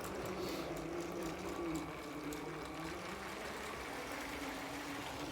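A LEGO toy train runs steadily around a track loop, giving a continuous, even mechanical whir and rattle that stays moderately close and unbroken throughout.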